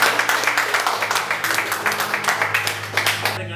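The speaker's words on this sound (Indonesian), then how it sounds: "sebelum saya menjawab kita tepuk tangan" Scattered audience clapping at a military lecture, with rhythmic, fairly even claps that are moderately near, while a low hum persists underneath.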